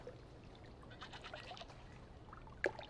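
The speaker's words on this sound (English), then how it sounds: "I can hear a goat." A goat bleats faintly and at a distance in the video game Draugen, a soft wavering cry buried under a steady low ambient hiss.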